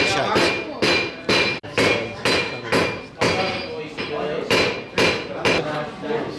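A blacksmith hammers hot metal at a forge during a heritage trades demonstration, about a dozen loud, ringing blows in a steady rhythm, close by, with no talk over them.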